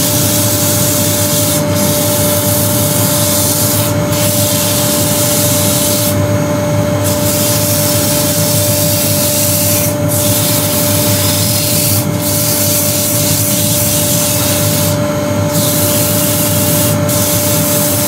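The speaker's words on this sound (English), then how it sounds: "sand nice and slowly" Continuous abrasive rubbing of 100 grit sandpaper against a spinning scrap wood bowl on a lathe, a loud steady hiss over a constant motor whine with a few brief louder scrapes.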